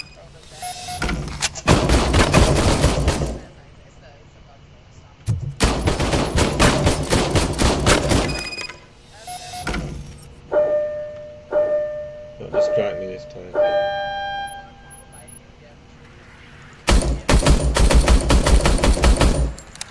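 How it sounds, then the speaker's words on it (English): An old serviced service gun fires in a video game in several long, loud bursts of rapid automatic fire separated by pauses. Short ringing mechanical tones sound in between, and people talk. "I was issued this old gun and serviced it according to the manual. I will try it out."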